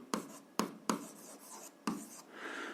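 A pen scratches across paper while someone works an algebra exercise, with several quick sharp strokes followed by a softer continuous scribble. The writing is faint and close, and nobody speaks.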